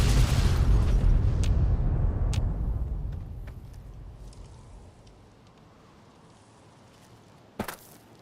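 Explosion in Fallout: New Vegas: a heavy booming blast already roaring, decaying over several seconds into a low rumble and quiet, with a few scattered clicks and a sharp crack near the end.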